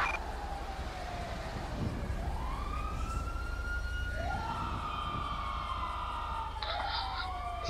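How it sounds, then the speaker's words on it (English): A wailing ambulance siren in the video game Grand Theft Auto V (LSPDFR mod) sweeps up and down continuously over a steady engine rumble, loud and close, with a second siren tone joining near the end. "Here comes the ambulance."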